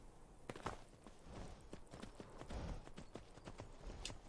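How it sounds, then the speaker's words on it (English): Horse hooves clip-clop in a quick, uneven rhythm of sharp close knocks, steady throughout at a moderate level, in an Elder Scrolls video game. "There is a horse."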